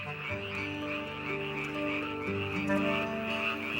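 Male tree frogs calling loudly with inflated vocal sacs to attract females, a dense continuous chorus of overlapping croaks from many frogs, steady and close with no voices.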